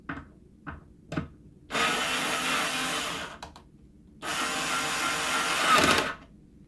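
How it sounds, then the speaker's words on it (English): A power drill on its lowest clutch setting drives a hinge screw, whirring in two sustained bursts, with its clutch slipping between short clicks and pauses. "Hear that clutch working?"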